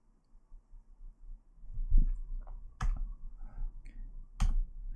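Sparse keyboard keys click one at a time at close range, a few isolated taps spaced irregularly rather than steady typing, with a quiet background.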